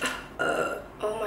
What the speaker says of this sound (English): I've been burping all day